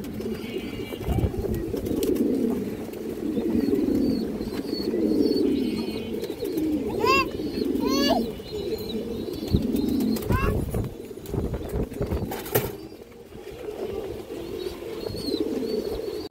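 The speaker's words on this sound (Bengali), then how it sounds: "স্পেশাল একটা মাদি কবুতর, সিলভার বাঘা মাদি কবুতর" Silver Bagha female pigeons coo in a low, continuous murmur from a flock of domestic fancy pigeons, with a few sharper chirps and wing flutters on top, while someone talks throughout.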